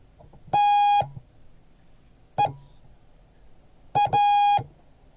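Morse code spelling the word TEA as a clean electronic tone: a long dash, a short dot, then a short dot followed by a long dash, separated by clear silent gaps.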